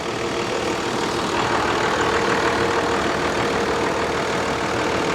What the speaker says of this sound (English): Idling in neutral, so that's how you're supposed to do it.